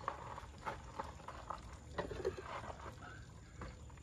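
Water from a hose splashes and sprays while a large redfish is being cleaned, a spattering wash with uneven bursts as the stream hits the fish and surface.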